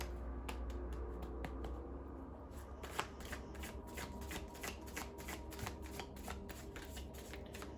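Tarot cards being shuffled by hand, a run of crisp riffling flicks and taps close up, continuing steadily over a quiet low hum.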